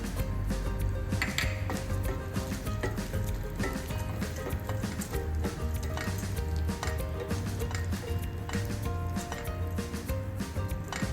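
Almonds, cashews and pistachios frying in ghee in a pan, a steady dense sizzle with scattered clinks and stirring scrapes from nearby cookware throughout.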